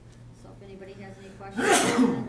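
A sneeze bursts out near the close mid-sentence at a city council meeting, loud and broadband, right after a man's spoken question to the room.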